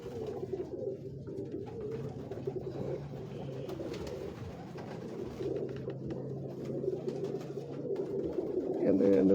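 Pigeons coo softly and repeatedly on a Lahore rooftop. Someone talks over them throughout, and the low cooing continues steadily underneath his voice.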